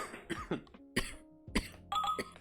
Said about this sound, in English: Don't let that cough dissuade you.